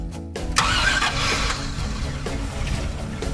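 An old Jeep Wagoneer engine, a barn find, cranks briefly and catches, then settles into a steady, fairly loud low idle that keeps running without talk.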